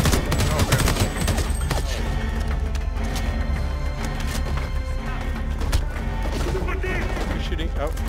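Dense, continuous gunfire and explosions fill a co-op firefight in the game Homefront The Revolution. The shots overlap constantly at high volume, with a low rumble underneath and players' voices faintly mixed in.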